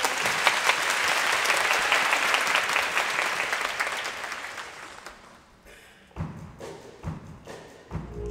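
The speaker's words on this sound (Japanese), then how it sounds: "お手拍子どうぞ。" A high school band performance where the audience claps along in a steady, dense rhythm, then fades. After a lull, a few scattered louder thumps follow.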